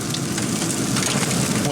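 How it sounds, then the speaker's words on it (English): Heavy rain pours outdoors during a backyard rib smoking session, a dense steady hiss of drops drumming on surfaces throughout, close and loud with no break. "Man, it is pouring rain."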